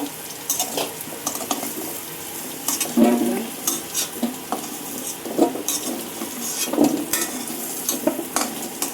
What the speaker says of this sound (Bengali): আলু ভাজা হয়ে আসছে